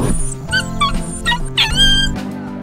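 A dog whimpers and yips close by in a quick run of high, wavering cries and short yelps.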